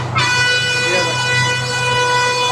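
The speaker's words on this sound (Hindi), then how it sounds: "हॉर्न यहीं से मार दिया" A bus air horn on the road sounds a long, loud, sustained blast that starts suddenly and holds steady to the end, with road and engine rumble underneath.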